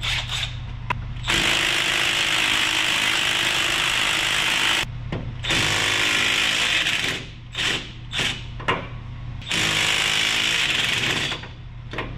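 A power tool whirs in loud, sustained bursts while removing front drive shaft bolts on a Toyota 4Runner, Tacoma or FJ Cruiser, stopping and starting several times with short pauses between runs.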